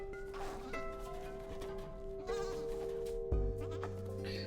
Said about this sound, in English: so now we work with a couple of different goats at once